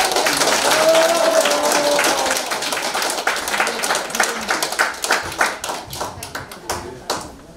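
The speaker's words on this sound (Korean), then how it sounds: "아주 우레와 같은 함성과 함께 큰 박수로 맞아주시면 감사하겠습니다" An audience at an event claps to welcome the company chairman, starting as a dense, loud roar of applause that thins into scattered individual claps near the end, with a short tone and faint voices underneath.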